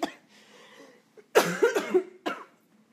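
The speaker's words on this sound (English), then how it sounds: "I'm having a bad cough." A single person coughs in a few loud, harsh bursts from close by, after a quiet stretch of faint background sound.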